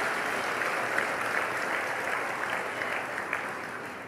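Congregation applauding during a church sermon, an even wash of many hands clapping at moderate distance, continuous and unbroken with no speech over it.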